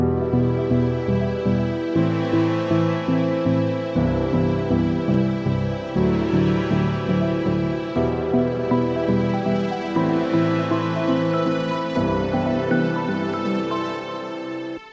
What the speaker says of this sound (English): we are having these epic strings and also these nice bells sitting on top here